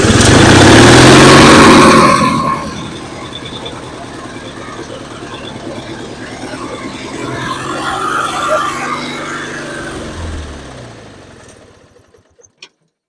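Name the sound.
free gasoline lawn mower engine running on fumes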